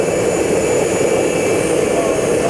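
A jet airplane engine at Prudhoe Bay airport in Alaska roars as a steady, loud, broadband whine and rush with no breaks, close by.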